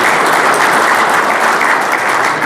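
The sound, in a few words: applause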